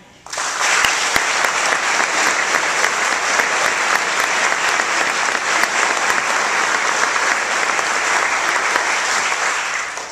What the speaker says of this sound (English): So let's just cheer for ourselves for being here and ready to take a stand for life.